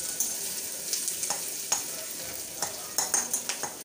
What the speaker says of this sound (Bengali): তারপরে দিয়ে দেবো পেঁয়াজ আর কাঁচা লঙ্কা